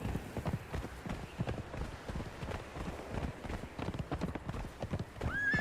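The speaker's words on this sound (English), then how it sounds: "Equip horse." A horse in the video game Conan Exiles gallops in a fast, steady clip-clop of hooves, close and continuous, and a whinny rises near the end.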